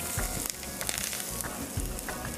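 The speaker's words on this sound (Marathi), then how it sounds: "एक 15-20 छान आपल्याला कढीपत्त्याची पानं फोडणीला द्यायची आहेत" Curry leaves tempering in hot oil in a kitchen, a close, steady crackling sizzle with sharp pops scattered throughout, no talking.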